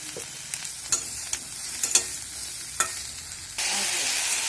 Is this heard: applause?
no